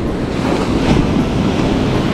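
Modest waves break on a murky, muddy surf beach in the north of the prefecture, making a loud, continuous close-up roar of surf and wind, with no voices.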